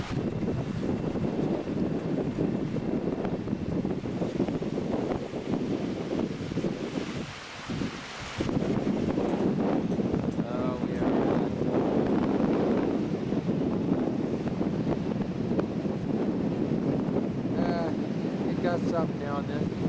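Steady roaring wind buffets the microphone near a Lynx vertical-axis wind turbine spinning in strong wind, with a continuous whooshing rush and a brief lull partway through, and a voice talking faintly beneath.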